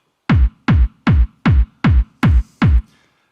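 Seven punchy trance kick drum hits shortened without a fade, each a loud, tight thump with a rumbling low tail, repeating at a steady rhythm and alone, the last two with a brief bright click.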